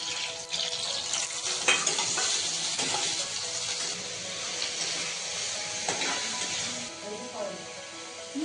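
Onion and green chilli sizzle in a hot pan for egg bhurji: a continuous close frying hiss with light stirring clicks, while a person talks over it.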